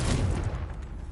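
A Confringo explosive spell in Hogwarts Legacy, a heavy rumbling blast that peaks at once and tails off into a low, noisy decay over about a second, with no voice.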